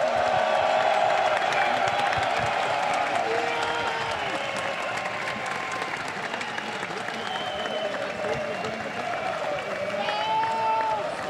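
A large arena crowd in Hamburg applauds and cheers the G2 eSports esports champions, with sustained dense clapping and whoops that hold steady throughout, loud and enveloping, with some speech mixed in.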